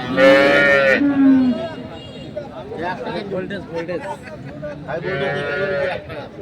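Dairy cows and calves moo loudly nearby at the Ambari livestock market in Dinajpur, two long calls at the start and end, with people chattering in between amid a busy market crowd.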